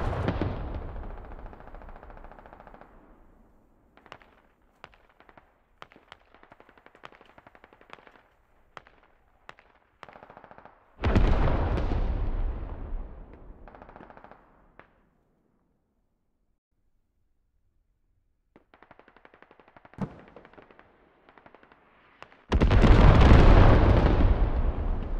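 An artillery barrage and gunfire in the military shooter game Squad: a long burst of rapid, crackling shots, then heavy booming impacts that rumble and fade, quiet stretches with scattered pops, and a final loud explosive roar, all close and with no talking.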